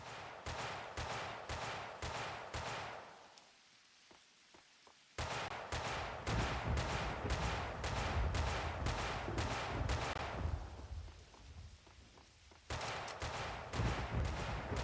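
Sniper gunfire in the video game Max Payne 2, heard as fast, evenly spaced shots in long loud bursts separated by brief quieter gaps, with no voices.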